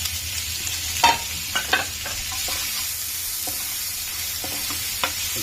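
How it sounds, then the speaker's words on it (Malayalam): Green chilli, onion and carrot frying in a pan for upma, giving a steady soft sizzle with a few sharper stirring clatters and scrapes spread through, close by and without talk. "പച്ചമുളക്, സവാള, ഗാജർ, ക്യാരറ്റ് ഇടുക."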